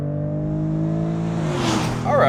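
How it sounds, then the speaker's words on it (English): A Lexus IS 350 F-Sport accelerates hard in Sport Plus mode: a steady, droning engine note shifts and builds, then the noise swells louder toward the end. "Sport Plus mode. Let's see how quickly we can get up to speed."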